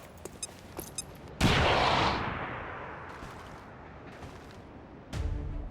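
In the video game XCOM 2, a few sharp gunshots crack before a grenade bursts with a loud boom that slowly fades, followed by more distant rumbles and another heavy blast at the end.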